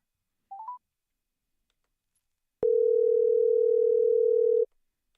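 A telephone call begins with a quick run of three short dialing tones, then after a pause a single steady tone holds for about two seconds before cutting off, clean and close, with no talking.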